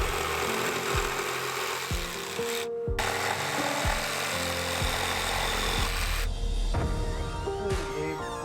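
A power tool cuts wooden trim during home renovation work, a steady loud whirring grind with rhythmic pulses of the blade biting the wood and brief pauses between cuts.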